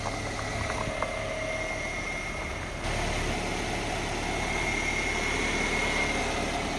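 A Suzuki Samurai fitted with a swapped 2.0L engine idles with a steady low rumble. The idle gets slightly louder about halfway through, and nobody speaks.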